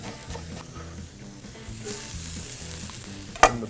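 Ginger and garlic sizzle in olive oil in a pan for a shrimp and squash stir fry, a steady close hiss under light stirring scrapes, ending with one sharp knock of a utensil.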